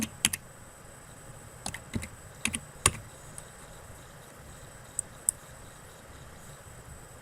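Keys clatter on a computer keyboard at a library desk as an item barcode is entered, in sparse irregular clicks and short bursts over a quiet background hiss.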